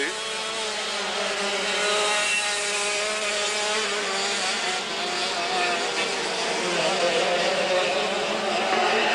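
Dirt kart racing engines droning steadily at a 1996 race, a dense buzzing whine of several karts that stays loud and continuous, rising and falling slightly as they pass.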